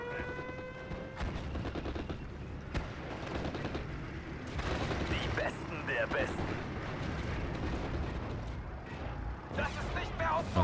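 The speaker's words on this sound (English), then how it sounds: "they're going for the bombing strike onto the LG there" Bombing strike explosions and gunfire rumble through a Steel Division: Normandy 44 battle, dense overlapping booms and crackling shots layered with game sound effects throughout.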